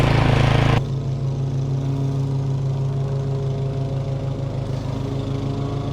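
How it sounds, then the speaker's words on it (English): A Toro Timemaster lawn mower cutting tall, wet grass, its engine droning loud and steady at close range after a brief louder burst at the start. "So with this one, I am mowing it with the Timemaster. Toro Timemaster."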